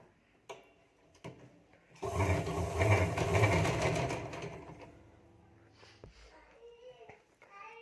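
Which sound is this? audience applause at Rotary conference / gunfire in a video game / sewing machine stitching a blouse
sewing machine stitching a blouse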